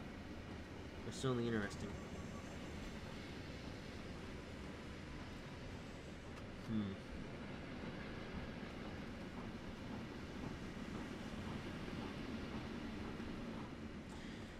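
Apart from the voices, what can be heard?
passenger coaches grunting in Trainz Simulator 3 video game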